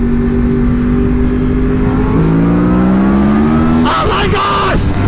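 Two Yamaha R1 sport bikes, a 2010 and a 2006 model, accelerate hard from second gear at about 50 in a roll-on race, engine notes climbing steadily and loudly, then a gear change and a rising rev near the end with wind rush.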